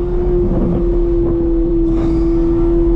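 A Chevrolet C8 Corvette Z06 driven on a race track gives a loud, steady engine drone at constant speed, with a sustained high tone, heard up close from inside the car with no talking.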